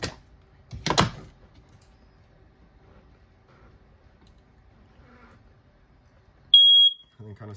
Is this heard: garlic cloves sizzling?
no